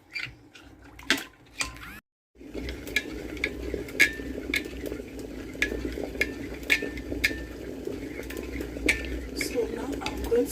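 A custard mixture is stirred in a bowl with a spoon, making repeated clinks and scrapes against the side. A short drop to silence comes early, and quiet background noise runs throughout.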